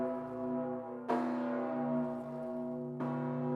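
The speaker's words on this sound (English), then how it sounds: "That's the original bell." A recorded bell rings with two struck onsets, each bright attack blooming into a long, rich ringing decay of stacked overtones, alone and at moderate level.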